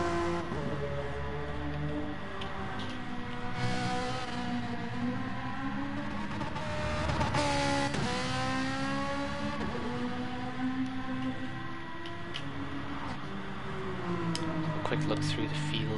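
Gr.4 race cars lap the Bathurst circuit in the Gran Turismo Sport video game, their engines droning and rising and falling in pitch continuously under a commentator's steady talk.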